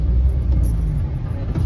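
Steady low rumble of a car engine and road noise from inside a moving car, continuous and fairly loud with no talk.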